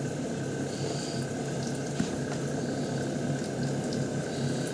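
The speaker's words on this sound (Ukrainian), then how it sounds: "Набрала в мисочку воду, а там мию руки," Hands washing in a small bowl of water, with soft continuous splashing and sloshing close by, steady throughout with one brief louder splash midway.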